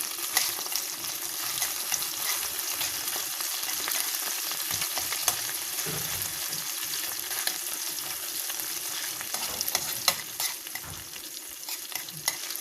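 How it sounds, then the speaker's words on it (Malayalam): Ginger, garlic and green chili fry steadily in hot oil for a pickle, a dense, even sizzle with constant crackle and occasional stirring, close and unbroken throughout. "ഇഞ്ചിയും വെളുത്തുള്ളി ഏകദേശം മൂത്ത് വന്നിട്ടുണ്ട്."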